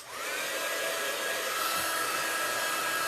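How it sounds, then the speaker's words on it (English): A heat gun blows steadily at close range while drying distress ink on a papercraft project, a continuous loud whooshing roar with a faint whine, spinning up at the start and holding level without pause. "When that happens, that is when you dry it with your heat gun."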